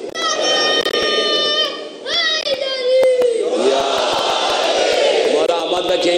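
A crowd of children chanting slogans at a Muharram majlis gathering in Qaisar Bagh, Mumbai, loud and close in rhythmic bursts of massed young voices with echoing resonance, a brief dip before the chant swells again.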